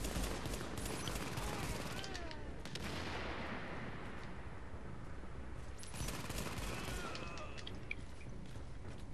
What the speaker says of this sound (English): Taking them out with my pistol.